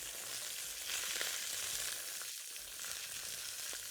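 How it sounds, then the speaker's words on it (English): Food for molokhia with rabbit sizzles steadily in a hot pan, a soft continuous crackle and hiss with occasional stirring scrapes, no talking. "Look at this nice sautéing."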